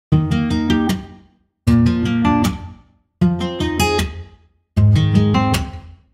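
Four strummed acoustic guitar phrases, unprocessed with plugins bypassed, each a quick run of bright chords that rings out and stops, with short silent gaps between them.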